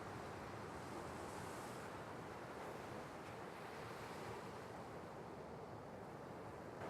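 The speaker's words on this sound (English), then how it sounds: "Even though the wind is blowing in our faces" Wind and surf on a beach make a constant, broad roar with steady wind buffeting the microphone and no distinct wave breaks.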